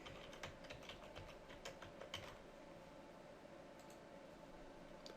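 Password being typed on a computer keyboard during a Windows domain login setup: a steady run of quiet, close keystrokes with irregular rhythm over soft background hiss, no talking.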